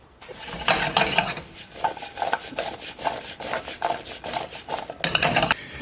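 Apples with a pinch of salt cook in a pan, stirred with rhythmic, close scraping strokes and soft bursts of sizzle, fairly loud and steady, with no voices.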